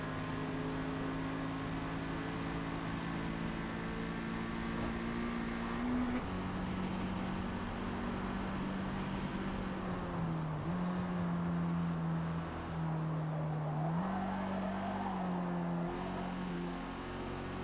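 A Gran Turismo 7 race car engine holds a steady drone, then rises and dips in short stepped shifts, a continuous synthetic whine heard alone without talk.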